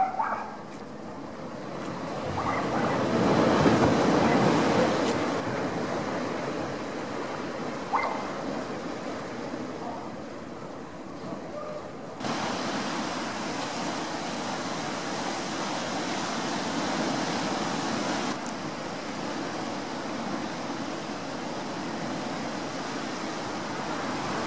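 Ocean waves crash on the shore with a broad, rushing wash that swells and eases over about twenty-five seconds, heard at a distance with faint background noise.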